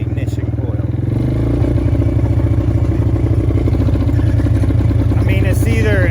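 A motorcycle engine fitted with a brand-new carburetor and spark plug starts up and keeps running loud and close, with a steady rapid chugging idle and metallic clatter throughout.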